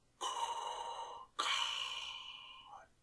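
A person imitates Darth Vader's heavy mechanical breathing, two long hissing breaths, one in and one out, close to the listener.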